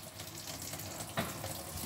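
A caravan tap splutters and spits just after the water pump kicks in, a faint, uneven hiss of water with air bursts and one sharper splash midway.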